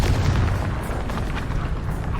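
A Confringo fire spell from Hogwarts Legacy goes off as a loud, rumbling blast that holds as a heavy, sustained boom throughout.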